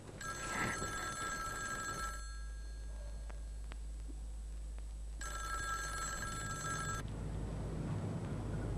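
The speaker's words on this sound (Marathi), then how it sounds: "हा मीनलचाच फोन असणार" An old landline telephone bell rings in two long bursts separated by a silent gap, loud and close against a low background hum in a home.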